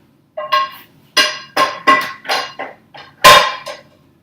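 Pasta, broccoli and cream are mixed in a pan, with about nine distinct, loud metallic clinks and scrapes of a utensil against the pan in an uneven rhythm and no voices.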